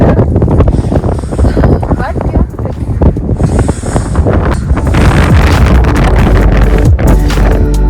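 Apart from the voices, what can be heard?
strong wind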